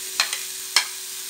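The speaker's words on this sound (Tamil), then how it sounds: "இதில் எண்ணெய் நல்லெண்ணெய் ஊற்றிருக்கேன். கடுகு, உளுந்து, கடலைப்பருப்பு, மிளகாய் போட்டிருக்கேன். வெங்காயம் போட்டுட்டேன்." Mustard seeds, lentils, chillies and onion tempering in hot sesame oil, giving a steady high sizzle with a few sharp crackling bursts and pops over a short stretch.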